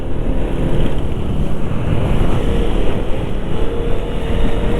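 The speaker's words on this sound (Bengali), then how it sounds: "আমরা এখন শুধু বাইক চালাবো।" A motorcycle on a bike trip along a mountain highway toward Sikkim, a loud steady engine drone and road rumble buffeted by heavy wind noise, continuous with no talk.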